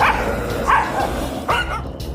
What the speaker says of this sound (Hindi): कुत्तों से भौंकने की आवाजें आने लगी